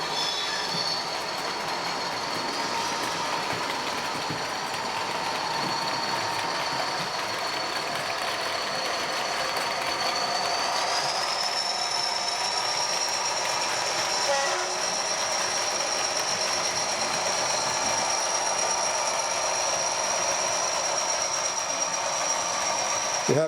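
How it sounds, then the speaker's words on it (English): Class 40 40142 and Class 47 47814 diesel locomotives haul passenger trains with a sustained rolling rumble, high squealing wheel tones and a drawn-out whine, steady and fairly close the whole time. "We hope you enjoy seeing these locomotives run."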